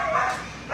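A dog in a shelter kennel gives a single short bark or yelp, loud and close, with kennel noise around it.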